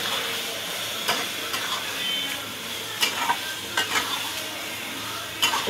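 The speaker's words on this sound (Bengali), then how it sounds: "একটু দিয়ে নাড়াচাড়া করে নিতে হবে মশলাটাকে, যাতে মাছটার গায়ে চলে যায় সারা মশলাটা।" Loitta fish is stirred through red-cooked masala in a pan, a continuous sizzle with several sharp scrapes and clinks of the spoon near the mic, and no talking.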